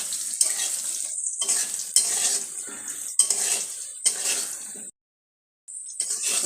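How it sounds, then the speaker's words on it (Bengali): Fried potatoes coated with turmeric are stirred in an oily pan: a spatula scrapes in rhythmic bursts over a frying sizzle, with a short silent pause before the stirring resumes. "হলুদ দিয়ে ভালো করে নেড়ে চেড়ে নেব।"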